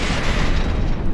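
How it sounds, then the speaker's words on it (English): A Phalanx close-in gun fires in a video game as one dense, continuous, loud roaring blast with no separate shots, lasting about a second. "There's a big barrage of bullets coming in."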